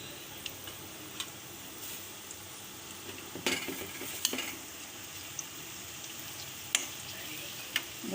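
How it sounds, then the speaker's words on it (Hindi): Onions and white cumin frying in oil for a dhaba-style bhindi masala give a steady, close sizzle, broken by scattered crackling pops and a few light clinks of a utensil against the pan. "बस 5-6 मिनट हम इसको प्याज को तलेंगे"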